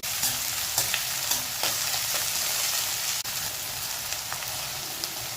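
Chopped onions and plenty of green chillies fry on a medium flame for gonguura chicken, giving a steady, close crackling sizzle with a few sharper pops and light stirring scrapes throughout, no talking.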